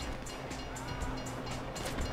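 A train rolling past in Grand Theft Auto V, heard as a quiet, steady rumble with a faint rhythmic clatter of wheels, alone without talk.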